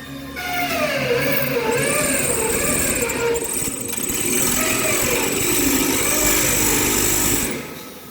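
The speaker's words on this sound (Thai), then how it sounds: "เดี๋ยวเจาะรูร้อยน็อต" A power drill runs steadily and loudly for several seconds, drilling bolt holes, its whine wavering in pitch as it bites into hard material, then winds down.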